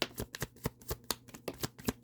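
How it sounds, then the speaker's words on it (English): Tarot cards being shuffled by hand, a quick run of about a dozen crisp riffling snaps in steady rhythm, close and fairly quiet with no talking. "Let me give it a quick shuffle, and we'll move on to Cancer."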